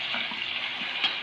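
Corned beef sautéing in a pan for spaghetti sauce, a soft continuous sizzle with faint stirring scrapes, close and steady with no talking.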